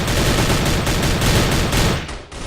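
M4A4 rifle fire in a shooter game, a loud, dense, continuous rattle of rapid shots up close that cuts off briefly near the end before picking up again.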